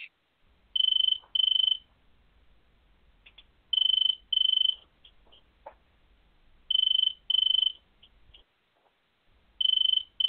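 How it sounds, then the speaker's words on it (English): A high electronic debate timer chime beeps in repeated pairs of short tones, separated by pauses of quiet, with faint background rustle between the rings. "and the ring will sound like this."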